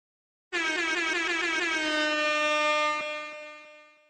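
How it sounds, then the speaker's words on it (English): A loud air horn sound effect blares in one sustained, harmonic-rich blast that starts abruptly and fades out over a few seconds. "Give yourself a little air horn for that one."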